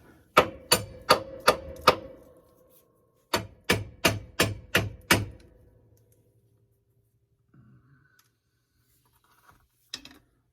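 Two bursts of five sharp, evenly spaced metal-on-metal hammer blows, close and loud, struck against a front suspension part of a 1970 Dodge Charger, with a short pause between the series and a few faint clunks afterward.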